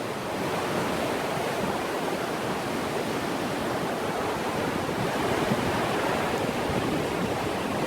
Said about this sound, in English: And the river is very, very loud, as you can tell.